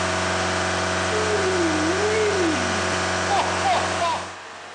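A Ford Mondeo mk4 diesel engine (2012-2014 model) runs at a steady, droning idle during DPF regeneration, with a constant hum that softens near the end.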